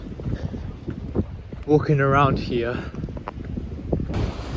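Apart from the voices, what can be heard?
strong wind on the beach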